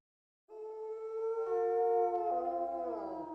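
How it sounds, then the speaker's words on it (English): A long, tonal howl from the video game I Have No Mouth And I Must Scream starts abruptly after silence, swelling and bending downward at the end, heard alone. "That howl was much closer than..."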